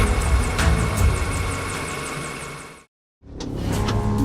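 A Robinson R44 helicopter takes off early for a wild boar hunt, its loud, steady rotor and engine roar up close, briefly cut to silence and then resuming.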